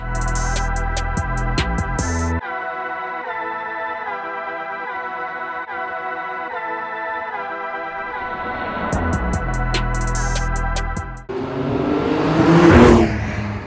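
A 991.2 Porsche 911 GTS accelerating hard, its engine revving up through rising pitch in steps as gears change, loud and close, with a short burst of rushing noise at the end and no talk.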